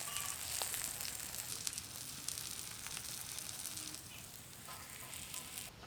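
Chicken pieces fry steadily in hot oil in a pan for shawarma, with a constant soft sizzle and crackle that stays even and fairly quiet throughout.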